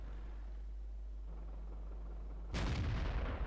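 A tank cannon fires once in World of Tanks, a single loud, sharp blast with a booming rumble that follows a quieter stretch of engine drone.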